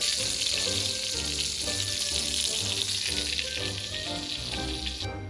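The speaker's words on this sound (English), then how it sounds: "Right now we got, in the same pan, just cooking some sweet Italian sausage." Sweet Italian sausage sizzles in a skillet with a loud, steady, close frying hiss, joined by faint low clatter from the pan and no talking.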